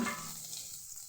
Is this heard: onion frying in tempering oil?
yes